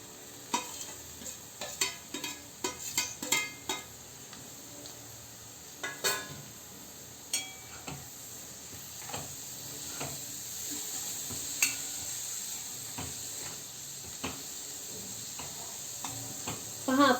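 Paneer and green peas sizzling in a pan as they are stirred, a steady soft frying hiss under repeated light clicks and scrapes of a spoon against the pan, close and fairly quiet.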